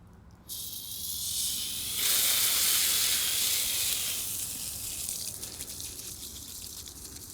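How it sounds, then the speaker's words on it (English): A garden hose sprays water over freshly dug dahlia tubers laid on the ground, making a steady, close hiss that swells after a brief start and then eases slightly, with no talking. "I'm just going to lay these gently down and spray them off with some water."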